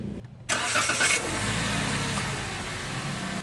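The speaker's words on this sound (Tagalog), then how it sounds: "Ma'am, pa-start po makina." A Toyota Rush engine, just back from brake master cylinder work, cranks briefly and catches, then settles into a steady, fairly loud idle that holds evenly to the end.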